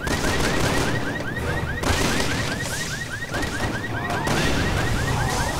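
Rapid bursts of gunfire fill a Resident Evil 6 game scene, a steady loud clatter with a repeating whooping alarm-like tone running throughout.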